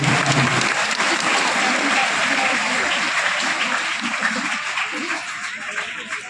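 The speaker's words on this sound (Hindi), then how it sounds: "तालियों की आवाज आएगी" A classroom of schoolchildren claps for students who all passed their exam, sustained enthusiastic applause that stays loud and dense before easing slightly near the end, with faint voices underneath.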